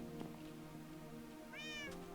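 A cat meows in a video game, one drawn-out rising and falling meow late in the moment, heard over steady background music and game ambience.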